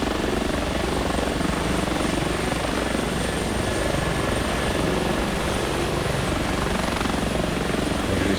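Continuous rotor and turbine drone of an H145 helicopter in the X-Plane 11 flight simulator, steady and loud without pause, no talk.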